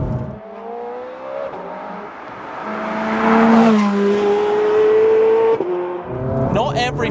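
A Ferrari 430 Scuderia engine revs and accelerates, the pitch climbing steadily through the gears in a loud, close sustained wail before easing off near the end.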